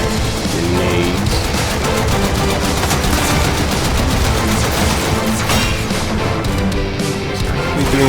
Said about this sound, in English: Just gotta shoot his face a little bit here.